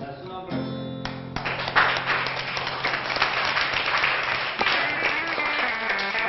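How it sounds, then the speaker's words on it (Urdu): Children clap their hands together in a classroom lesson, a dense burst of many small hands starting abruptly after a sustained tone and continuing steadily at close range. "اچھا تالی بجاؤ،"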